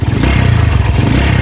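A loud Honda TMX155 motorcycle engine with a 200cc conversion idles close by, a heavy rapid low throb with rattling clatter on top, steady and unbroken with no voices.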